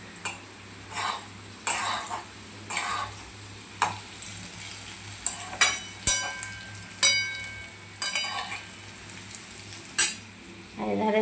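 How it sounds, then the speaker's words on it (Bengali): Pointed gourd and potatoes fry in a wok with a soft sizzle, while a utensil scrapes and stirs in repeated short strokes roughly every second, with no talking. "আর দেখো কড়াইতে পটল আলু ভাজা হচ্ছে।"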